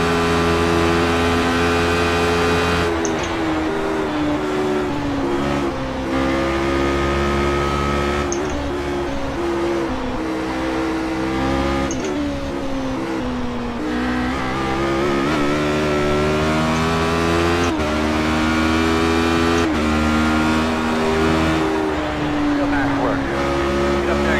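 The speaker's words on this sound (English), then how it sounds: "Let's see if I can catch up with the cars in front of me." Radical SR8 race car engines in the iRacing sim at Mosport drone loudly and continuously, pitch climbing and dropping with gear changes throughout, while someone talks over the racing sound.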